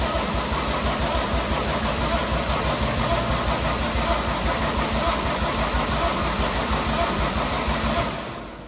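A swapped turbo diesel engine in a Datsun 240z runs close and loud with a steady rough clatter before it fades slightly at the end, and nobody speaks.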